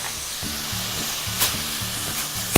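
Vegetables sizzle and fry steadily in a pan as soy sauce is stirred in, with a continuous hiss and repeated scraping stir strokes, loud and close, with no voices.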